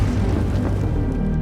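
Big explosion of a wartime landmine in a film, a deep sustained roar that rumbles loudly and continuously throughout without any speech.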